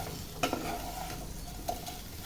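Asafoetida, dried chillies and curry leaves frying in hot oil for a mutton gravy, a steady close sizzle with a couple of brief stirring clinks near the start and again later, no talking.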